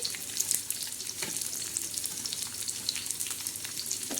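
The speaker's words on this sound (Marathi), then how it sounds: "तव्यामध्ये तेल टाकलं आहे प्रथम आपण त्याच्यामध्ये पहिल्यांदा कांदा टाकलेला आहे" Onion fries in oil on a flat pan, a dense, continuous sizzling hiss with steady crackles and small pops throughout and no talking.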